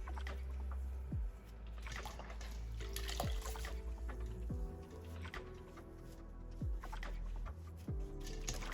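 Water runs and splashes over a bathroom sink while a sponge rinses facial scrub off the skin, a steady close trickle with intermittent squishy wipes and drips.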